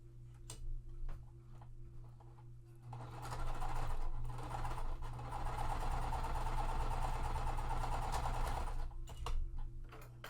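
A sewing machine stitches quilt fabric pieces, pieced with green and orange cotton, starting with a few soft clicks and then running in a fast, steady whirring burst for several seconds before slowing to scattered ticks, close up and without talk.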